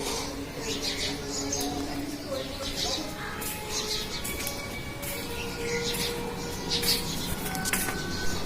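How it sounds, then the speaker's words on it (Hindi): Morning bird calls from parrots sitting on a wire come as scattered short chirps and squawks against a steady outdoor background, some near and some farther off. "सुबह सुबह पक्षियों की आवाज़ बहुत अच्छी लगती है"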